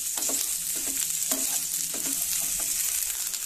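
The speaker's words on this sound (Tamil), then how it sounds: "தேங்காய் ஆட் பண்ணிட்டு ஒரு 3 நிமிஷம் வதங்கினா போதும்" Aloe vera and coconut sauté in a pan for a chutney, giving a steady close sizzle broken by repeated scraping stirs of a spoon, with no talking.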